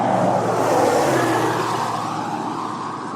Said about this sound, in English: there's quite a bit of traffic to my left